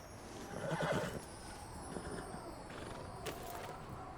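A horse whinnies in the video game Red Dead Redemption 2, a brief mid-level neigh near the start followed by soft hoof steps and light ambient noise.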